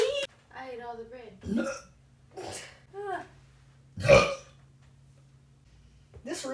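A person who has just eaten soup speaks in short phrases with one sharp, loud burp-like eruption midway, set against a quiet room.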